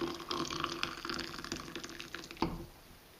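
Water splashing and trickling in a cup of boiling water, with brief close pours and drips in an otherwise quiet indoor setting and a sharper splash near the end.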